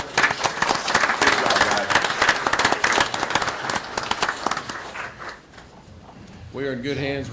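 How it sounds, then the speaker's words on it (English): People at a county commissioners' court meeting give a round of applause, brisk close claps that thin out and fade, followed by someone speaking. "And a round of applause."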